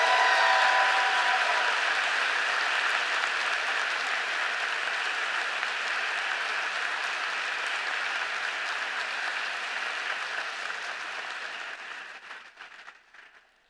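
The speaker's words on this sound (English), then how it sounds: "Let's give the class of 2026 a round of applause while they toss their predictions forward." Large crowd applause at a university Class of 2026 commencement, a dense, loud wash of clapping sustained for over ten seconds before gradually thinning and fading out at the end.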